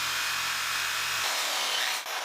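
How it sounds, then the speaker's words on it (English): An electric drill with a really thin bit whirs briefly while boring a hole in a tape measure, a steady close motor hum lasting about a second before cutting off into hiss. "I'm going to use a really thin drill bit here. I'll attach it to the drill and then we'll drill."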